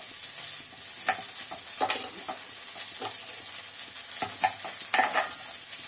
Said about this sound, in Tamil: நல்லா பாவக்காய் வதக்கிக்கலாம்